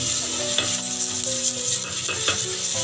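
Onion dosa batter sizzles on a hot pan, a dense, loud, continuous hiss with faint scraping and a few soft taps, and no voices.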